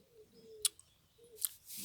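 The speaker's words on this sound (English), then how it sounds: "You can listen to the birds" Birds call faintly on a quiet morning, with a few soft tonal notes and two short, sharp chirps spaced about a second apart.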